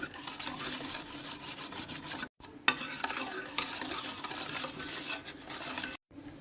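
Sugar is stirred in a bowl until it dissolves, producing a continuous gritty scraping and swishing with two brief pauses. The sound is close and fairly faint, with no voices.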